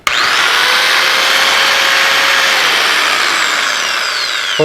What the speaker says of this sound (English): the amount of times I need a right angle drill like this